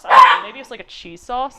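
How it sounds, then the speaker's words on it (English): A Shiba Inu dog barks indoors a few times in short sharp bursts, partly overlapping a person talking nearby during a casual home art stream. "Okay, I'm sorry, that's my dog."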